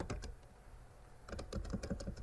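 A computer keyboard clatters with a quick burst of key presses, then a short pause, then a second cluster of rapid taps, close and fairly quiet, with no talking.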